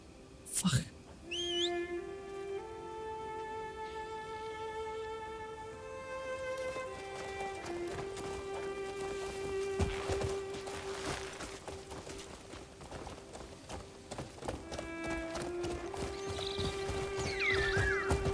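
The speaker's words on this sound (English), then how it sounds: "Smashed the cart and the horses ran away" Horses clatter and whinny in Crimson Desert as a cart is smashed on a bridge and they bolt away, hoofbeats and neighs loud over game music, with someone talking over part of it.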